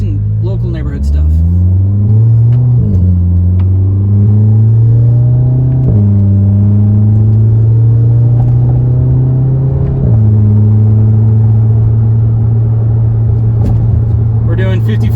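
A VW MK7 Golf R with a Nameless Performance exhaust accelerates through its gears on a neighborhood road, its loud droning engine note climbing steadily, dropping briefly at each shift, then climbing again.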